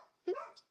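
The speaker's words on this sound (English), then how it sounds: "Sorry about my dogs." Dogs give a short, sharp bark that stands out faintly in the background during a podcast conversation.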